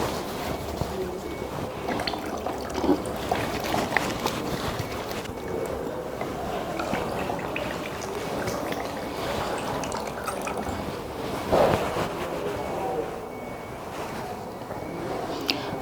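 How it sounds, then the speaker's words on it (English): Water runs steadily from a tap as hands are washed before catheterisation, a continuous close splashing rush with no talk. "I have to wash my hands alone now."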